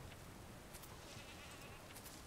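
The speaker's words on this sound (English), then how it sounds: "Oh, it's a goat." A goat bleats faintly a few times in the survival card game Card Survival: Tropical Island, thin cries under a steady wash of background ambience.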